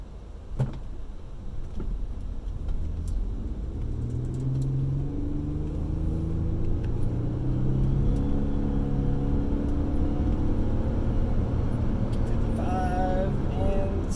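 2006 Toyota Highlander Limited hybrid on a test drive, a low steady rumble of road and motor noise that builds slightly and holds, with a few faint clicks near the end.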